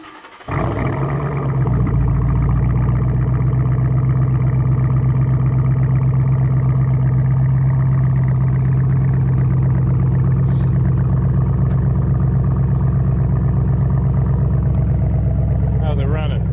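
A Ford Mustang GT engine cranks, catches and settles into a steady, loud idle around 1,000 RPM, its low rumble continuous and close for the rest of the clip.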